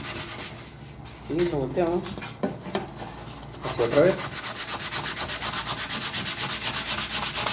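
A ring is sanded by hand against sandpaper at a workshop bench, giving a steady, rhythmic rasping stroke after a brief pause, with someone speaking briefly beforehand.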